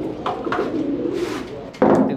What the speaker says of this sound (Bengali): এটা স্টার্লিং জার্মানি কবুতর।